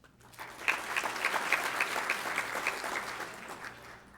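A banquet audience claps in a steady, dense round of applause that rises quickly, holds for a few seconds and begins to thin toward the end.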